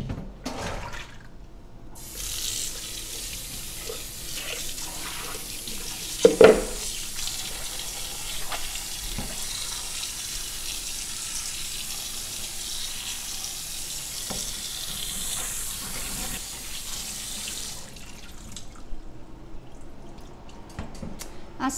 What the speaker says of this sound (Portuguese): Agora eu vou escorrer essa água e lavar bem os grãos.